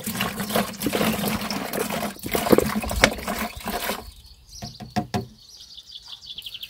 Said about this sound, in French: je verse mon purin d'ortie entièrement dans l'arrosoir